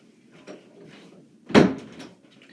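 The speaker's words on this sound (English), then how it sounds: "I'm just going to close my door quickly." A room door closing with one solid thud after a softer faint bump, close by in an otherwise quiet room.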